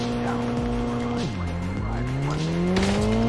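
A car in Call of Duty Mobile drives with loud, repeated tire squeals and shifting engine pitch, close and continuous over about three seconds with no talk.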